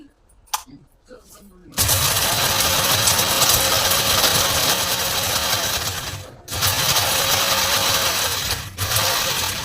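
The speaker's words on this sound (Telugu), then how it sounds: "దీన్ని మిక్సీ పట్టేస్తాను." An electric mixer grinder pulverises dried whole spices for homemade garam masala, starting after a few clicks and running loud and steady in bursts with two short pauses.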